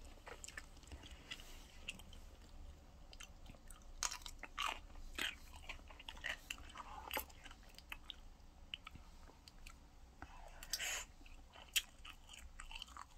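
Close chewing and crunching while eating mala tang, irregular soft bites and squishy mastication continuing alone for several seconds with no talk.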